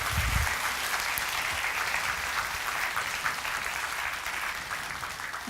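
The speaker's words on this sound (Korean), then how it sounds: "여러분 뜨거운 박수로 맞이해 주시기 바랍니다" Steady applause from a church congregation welcoming a guest to the front during a Sunday service, a continuous wash of clapping that holds evenly throughout.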